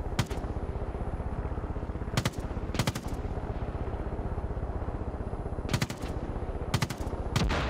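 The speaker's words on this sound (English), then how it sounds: "Someone's shooting at us, yeah, around there." Gunfire in Far Cry 5 rattles in sustained automatic bursts, loud and steady throughout, with a few sharper, louder cracks standing out at intervals.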